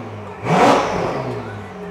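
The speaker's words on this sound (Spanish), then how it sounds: "el sonido es brutal, con este escape en concreto, este motor de cigüeñal plano y tal" Car engine with a flat-plane crankshaft revving through a specific exhaust in a private garage, a single sharp blip rising over a steady idle and settling back, loud and close.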